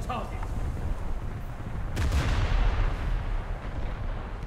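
The naval guns of HMS Hood fire in a video game, a deep booming blast swelling into a rumbling roll over steady ambient game noise, with a voice talking over it.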